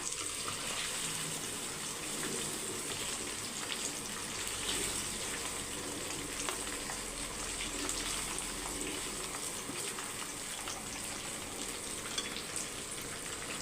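Chicken 65 pieces fry in hot oil for biryani, a steady dense sizzle and bubbling hiss running evenly throughout at moderate level, with no talking.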